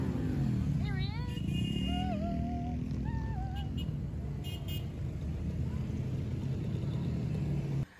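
A motorbike rides past during a charity ride, its broad engine rumble loud and steady throughout and fading off at the end, with voices and what may be a horn toot near the start.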